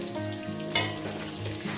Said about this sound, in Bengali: এই আলুগুলো আলুগুলো দিয়ে সুন্দর করে লাল লাল করে ভেজে নেব